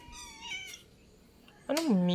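A cat meows twice, a short thin call near the start and a louder drawn-out meow at the end, close by in an otherwise quiet indoor space.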